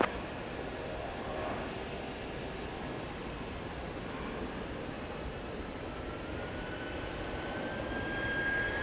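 A United Airbus A319 jet departs Houston IAH, its engines a faint, steady, distant roar that builds slightly toward the end, with no voices.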